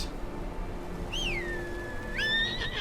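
A horse mount in the Game of Thrones Kings Road video game lets out a clear, descending whinny, followed moments later by a second shorter neigh, standing alone over a soft ambient background.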